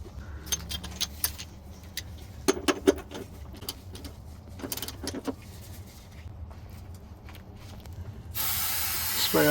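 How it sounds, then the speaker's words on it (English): A steady hissing spray of cleaner during diesel truck maintenance, with loud rushing bursts near the end, over a low engine-like rumble and a few clinks. "Spray off the area."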